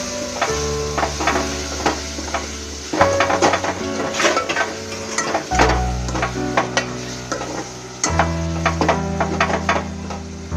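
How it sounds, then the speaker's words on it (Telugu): Chopped tomatoes being stirred into a boiled egg curry in a pan, with a spoon scraping and knocking against the pan in close, irregular strokes over a soft sizzle. "యాడ్ చేసి బాగా కలిపి కొంతసేపు టమాటోస్ మగ్గనివ్వండి."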